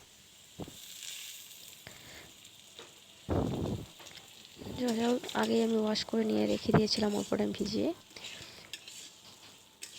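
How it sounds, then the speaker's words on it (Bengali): Soaked joha rice and potatoes fry together in a pan for a Katla fish head muri ghonto, a soft hiss of sizzling running underneath a person talking over most of the stretch. "চাউলগুলো আর আলুটা দেখো একবারই ভাজা হয়ে যাচ্ছে"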